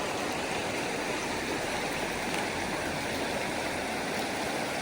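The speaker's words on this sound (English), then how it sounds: "The river definitely has gone up higher." A river swollen after a storm rushes past steadily, its dense broadband roar filling the whole clip at an even, close level with no voices.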